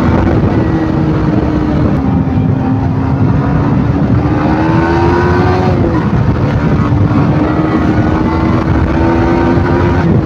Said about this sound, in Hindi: भाई बाइक में से कुछ ज्यादा ही साउंड निकल रहा है